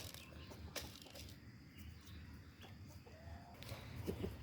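Rooster and hens on a Kattu Seval (native fighting rooster) farm, with scattered clucks and short calls over steady outdoor background noise, plus a brief crow-like call near the end.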